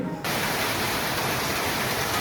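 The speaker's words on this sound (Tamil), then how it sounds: "வெளியே வந்து நல்ல மழை" Heavy rain falls outside as a dense, steady hiss that starts abruptly after a brief quiet moment and then continues evenly, with no talking.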